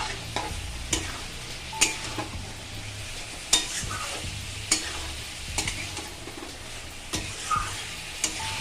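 Spices are stirred and fried in oil with a splash of water for a Bengali prawn, potato and pointed gourd curry, giving a soft continuous sizzle punctuated by sharp, regular clacks of a spoon against the pan, with no talking.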